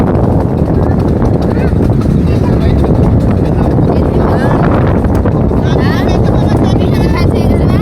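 Loud, constant engine drone of a motorboat with wind buffeting the microphone; voices talk faintly underneath the steady roar.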